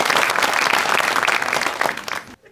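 A comedy show audience breaks into loud, dense applause that holds strong before tapering off and cutting out abruptly at the end.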